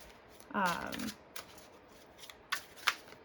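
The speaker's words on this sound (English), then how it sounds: "just so I can show you how nicely it shuffles" Tarot cards riffle quickly in one soft burst, followed by a few light taps and flicks as the deck is squared, close and quiet.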